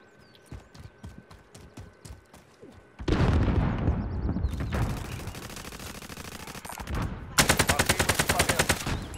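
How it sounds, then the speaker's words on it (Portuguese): Rapid bursts of automatic gunfire in Call of Duty: Modern Warfare, loud and close, opening with quieter rhythmic taps before heavy sustained volleys that end in a fast, dense rattle. "Tem um monte de tiro"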